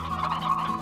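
Poultry in the video game Slime Rancher cluck and gobble in a brief, steady burst, close and fairly loud, with no talking.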